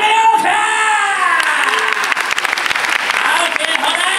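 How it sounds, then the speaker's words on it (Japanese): Applause and cheering fill a live rock and roll monster show as a crowd claps loudly and continuously, with a host's amplified voice speaking over the noise at the start. "大きな拍手。"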